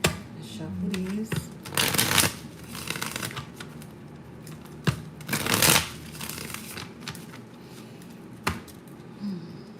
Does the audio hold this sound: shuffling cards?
yes